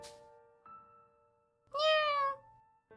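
A cat in the video game Fuga: Melodies of Steel 3 gives a single clear, close meow lasting under a second, between quiet tonal game music notes.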